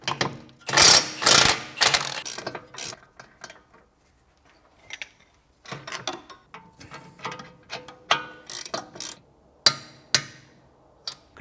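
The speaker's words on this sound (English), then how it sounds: "Now I can tighten this nut here." Ratchet clicking in bursts while tightening a nut on the suspension of a BMW E70 X5 with a tired V8, close and loud, with quiet pauses between runs of rapid pawl ticks.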